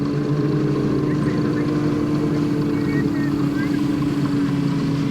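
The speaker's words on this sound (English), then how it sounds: "this is the actual engine that's powering this ice carousel" On a frozen lake in northern Maine, an engine powering an ice carousel gives a steady, continuous droning hum with a low rumble underneath, holding an even level throughout, with a voice faintly present.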